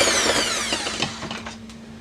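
Electric mixer beating pound cake batter at medium speed, a steady close motor whir with a constant hum and slight rattling from the beaters, loud at first and easing a little over two seconds.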